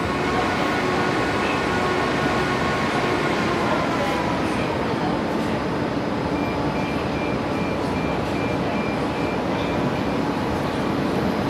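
Moscow metro train leaving Lefortovo station during the city-day parade of trains, a steady loud rumble and rail roar filling the whole stretch, with faint squeals and talk underneath.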